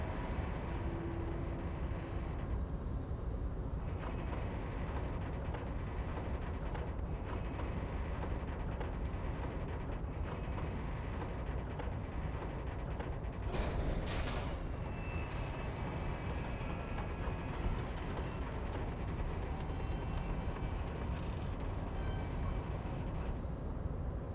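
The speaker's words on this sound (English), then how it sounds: "With a loud grind, the crane shifts overhead, moving a massive metal container through the air." A large industrial crane in Disco Elysium grinds overhead while shifting a massive metal container, a steady mechanical churning with ratcheting and creaking layered over a constant dense rumble, a brief sharper scrape midway.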